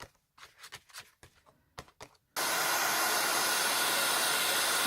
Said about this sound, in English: I'm just drying the second layer with my heat gun